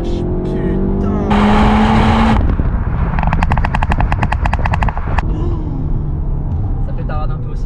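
A 400 hp Cupra with a TSI engine crackles and pops through its exhaust in a rapid burst of sharp bangs after a surge of engine revving, with people talking close by.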